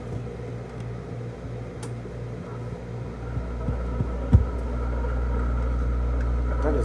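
Panasonic stereo system with a BSR record changer running with the stylus out of position, giving a steady low mechanical hum and throbbing rumble with a few faint knocks and a clunk partway through.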